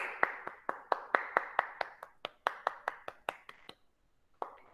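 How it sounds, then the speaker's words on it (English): Children in a classroom clap their hands in an even, sharp rhythm of about fifteen distinct claps, close and crisp, pausing briefly before one last clap. "Clap your hands."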